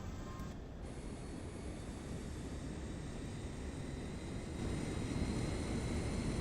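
A YS-11 turboprop engine in Microsoft Flight Simulator spools up, a faint, steady broadband whoosh that slowly grows a little louder, with no talking.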